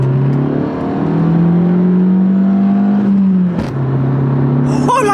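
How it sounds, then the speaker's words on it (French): Alfa Romeo MiTo 140 hp engine pulling hard at full throttle, a loud steady drone rising in pitch, briefly dipping around a gear change before climbing again, with faint voices at the end. "Ah, il y a le moteur qui rugit un peu plus."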